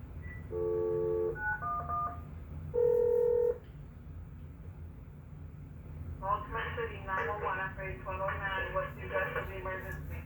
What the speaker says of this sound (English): today we're going to do a 911 prank call